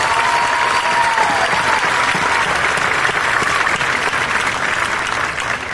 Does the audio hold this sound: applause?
yes